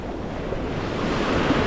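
Sea waves rolling onto an Azov Sea beach at sunset, a loud, continuous close surf roar mixed with wind buffeting the microphone, with no voices.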